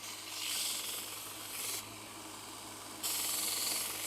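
A Vevor 30x1 belt sander hums steadily while a workpiece is pressed to the belt in two bursts, each adding a bright, hissing rasp that rises and then drops back to the motor's whir.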